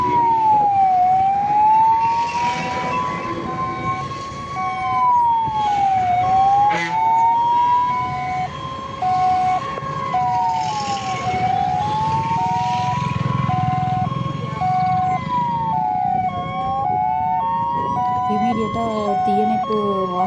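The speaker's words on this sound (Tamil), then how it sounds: "அதுக்கப்புறம் தீயணைப்பு வாகனம் வர்றாங்க" A fire engine siren wails in steady rising and falling cycles as it arrives at a gas pipeline fire, loud and continuous over engine rumble and traffic noise, with a voice talking faintly underneath.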